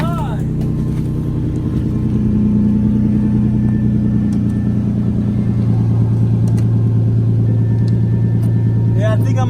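Infiniti G35 coupe with a failing slave cylinder, engine idling in a loud, steady low rumble while the gear is forced in, pitch shifting slightly midway.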